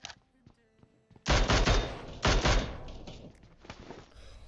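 Mini 14 rifle fire in the mobile game PUBG Mobile, heard as loud bursts of rapid shots that ring out over about three seconds after a quiet start.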